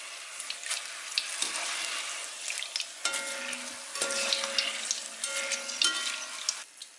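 Chicken for Kerala-style Payyoli chicken fries in a pan with a loud, close, crackling sizzle, broken by stirring scrapes and brief pauses.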